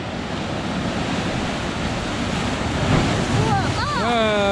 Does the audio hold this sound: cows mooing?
no